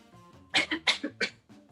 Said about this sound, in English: Then she coughs 3 times.